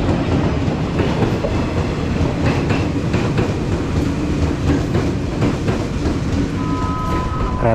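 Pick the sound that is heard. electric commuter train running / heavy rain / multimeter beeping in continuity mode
electric commuter train running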